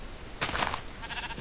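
A single short sheep bleat from the video game Minecraft, moderately loud against a faint noisy background.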